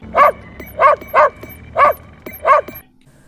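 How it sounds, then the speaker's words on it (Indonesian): A dog barks toward a river in a film scene, five loud, evenly spaced barks standing out clearly over a quiet background, then falling silent. "Anjingnya si Ed juga ngegonggong terus ke arah sungai"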